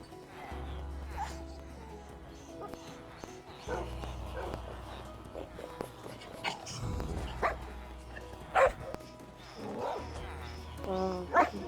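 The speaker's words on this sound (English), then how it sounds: "Basically guard dogs." Guard dogs bark in a Minecraft game, a scattering of short yips and barks at moderate volume over a low hum, with a person talking in between.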